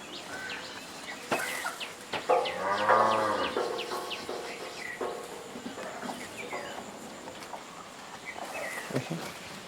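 Farm cattle busy eating in a barn let out a loud, drawn-out moo up close, followed by softer shuffling and faint bird chirps in the background.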